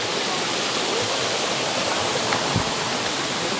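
Steady, dense rush of a waterfall in Chimmony Wildlife Sanctuary fills the whole clip, a constant broadband roar of falling water with no pauses.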